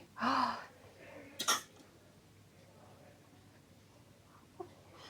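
A young boy coughs in a quiet doctor's consulting room: one harsh burst, then a second short double cough a moment later, followed by faint room sounds.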